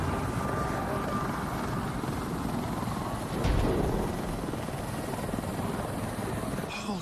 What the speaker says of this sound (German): Da kommt der Heli.